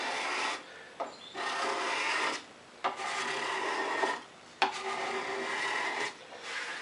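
A card scraper rasps across the wooden seat of a hand-carved stool in long, steady strokes. There are several passes with brief pauses between them. The sound is close and fairly loud, with no talking.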